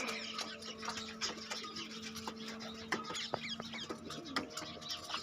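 Pigeons cooing in a loft or yard, soft repeated coos and calls overlapping against steady background noise, fairly quiet and continuous throughout.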